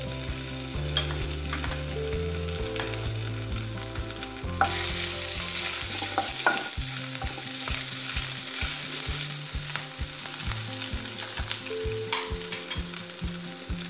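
Dried red chillies and ginger fry in hot oil in a pan with steady loud crackling sizzle while a spoon stirs and scrapes throughout. Close up, with a music track playing underneath and no talk.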